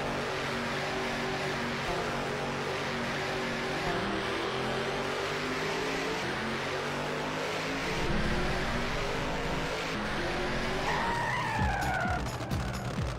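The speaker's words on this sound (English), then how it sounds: "I could tell that was close by the braking sound." Racing car in the video game Drome Racers, its engine droning steadily then braking and skidding with rising tire squeal near the end, loud and continuous, with no talking.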